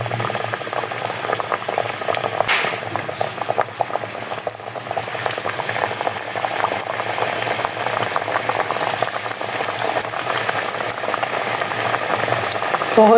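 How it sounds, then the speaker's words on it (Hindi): Besan-coated potato pakoras fry in hot oil in a kadhai, giving a steady, loud, close bubbling sizzle that runs unbroken throughout with no voices. "अब हम आलू के ऊपर इस तरह बेसन लगाएंगे। इसको हम कढ़ाई में शामिल कर देंगे।"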